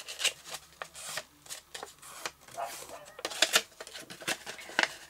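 A cardboard box is folded by hand along its dotted fold lines, with a fingernail following the crease, giving intermittent close crinkling and crisp creasing snaps in irregular bursts, with no talk.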